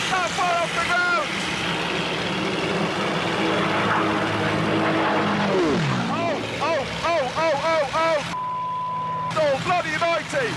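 Jet aircraft roaring low and fast over Las Vegas, wingtip close to the ground, a loud sustained engine rush with a falling pitch sweep as it passes, under excited speech.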